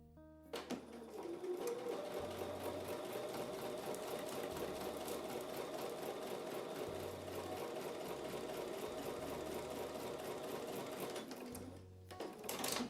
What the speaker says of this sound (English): So I'm going to take those over to the sewing machine and sew with a 1/4 inch seam.